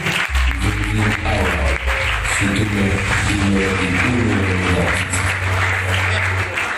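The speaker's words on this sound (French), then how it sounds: "Est-ce qu'on applaudit?" Audience applause at an award ceremony, steady and sustained across the whole stretch, with low musical tones or voices running underneath.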